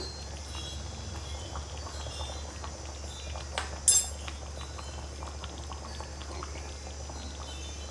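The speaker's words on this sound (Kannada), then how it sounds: "ಈಗ ಚೆನ್ನಾಗಿ ಕುದಿ ಬರ್ತಾ ಇದೆ." Andhra-style chilli chicken gravy boils in a pot with a faint, steady bubbling over a low hum, broken once midway by a brief metallic clink. Nobody speaks.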